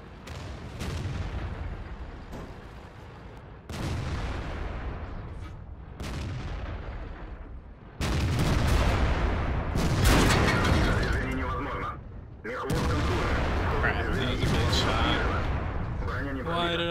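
Heavy IS-7 tank cannon shots in World of Tanks, several loud booming blasts spaced a few seconds apart over dense game noise and continuous battle rumble, with a player talking throughout.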